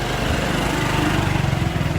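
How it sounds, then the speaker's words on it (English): A motorcycle taxi engine on Koh Kret drones loud and close, a steady buzzing mid-range rumble with no pause throughout. "Motorcycle taxi."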